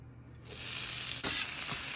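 Garlic hitting hot extra virgin olive oil in a warm cook pan sets off a loud, steady hiss that starts abruptly and keeps going, with a brief stir or scrape partway through.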